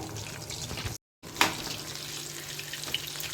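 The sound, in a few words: chicken pieces frying in oil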